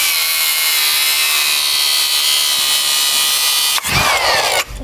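A power tool cuts through the stand mount on the bottom triple clamp of a Sur-Ron electric bike's fork: a loud, steady high-pitched whine close by, shifting to a rougher grinding burst near the end, with no voices.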